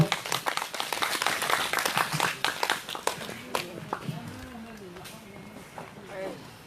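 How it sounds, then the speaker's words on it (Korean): Applause at an outdoor protest rally after a speech, a dense crowd clapping that thins into scattered claps, with a voice speaking over it toward the end. "다시 한번 박병준 선생님 힘찬 발언에 큰 박수를 보내드리겠습니다"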